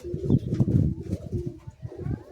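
Teddy pigeons coo close by in soft, repeated throaty rolls, several birds overlapping in a continuous murmuring burble.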